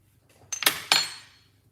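A spoon clinks and scrapes against a mixing bowl while dry ingredients for a Jamaican black rum fruit cake are stirred together, with two or three quick, bright knocks close by and then a short fading rattle.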